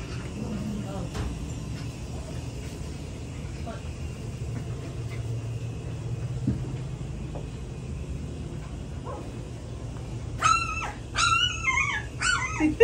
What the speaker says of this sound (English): It's a puppy invasion.